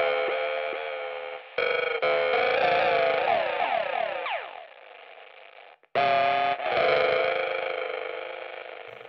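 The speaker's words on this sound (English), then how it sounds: "Going on to the lo-fi delays where you can get some more, you know, sort of destroyed sound." An electric guitar runs through a Cooper Fx Generation Loss pedal set to a lo-fi delay, giving a warbling, degraded tone with pitch-bending repeats that trail off, a brief cutout, then a fresh sustained chord alone.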